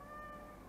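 A house cat gives a single short, faint meow, a steady tonal cry heard alone in a quiet indoor room.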